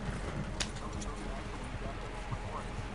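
Horse hooves clip-clop in Red Dead Redemption 2, sounding as steady, muffled footfalls under a dense game soundscape. Voices talk over it.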